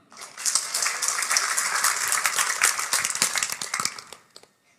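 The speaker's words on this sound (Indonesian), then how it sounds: "Tepuk tangan." Audience applause in a church during a sermon, a dense, steady wash of many hands clapping close by for about four seconds before fading out.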